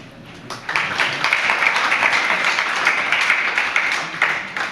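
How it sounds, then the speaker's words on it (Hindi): A large audience at a Jain religious discourse breaks into sustained applause, many hands clapping together in a dense, steady roar that swells quickly and holds at an even level throughout. "जैसे आप लोग व्रत लेने के लिए तालियां बजा रहे हो"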